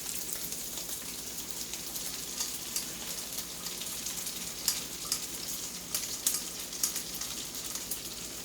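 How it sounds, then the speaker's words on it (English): Eggs fry in a hot pan for breakfast burritos, giving a continuous crackling sizzle with scattered louder pops and stirring scrapes, close and steady, no talking. "Let's dump our eggs in here"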